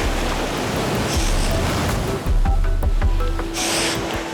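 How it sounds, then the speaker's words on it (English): Sea waves crash against rocks on a coastline where goose barnacles grow, a loud continuous rushing surge close by with heavy low rumble and swelling bursts of spray. "The waves are knocking me all over the place."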